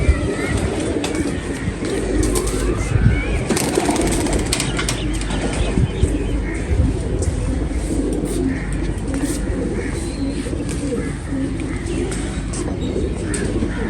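Shikari breed pigeons coo from their loft, with soft repeated calls set against a dense, steady background of bird noise and rustling. Faint voices may occasionally be mixed in.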